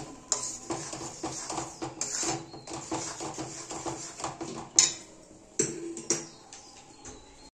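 A spoon stirs grated carrots and milk in a pan for carrot halwa, giving light scraping and scattered metallic clinks at an irregular pace, quiet and close, with no talking.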